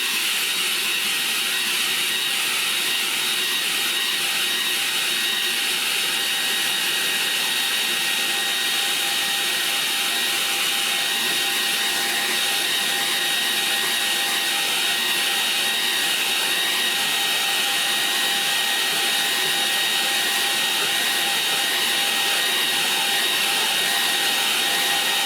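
A hair dryer blows steadily on a painting, a loud, constant whirring roar with a steady tonal hum that runs unbroken for the whole stretch, with no talk.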